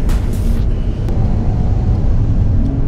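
A Hyundai Coupe pulls slowly onto the race track at Bedford Aerodrome, its engine a steady, loud drone with a brief higher whine at the start, no voices.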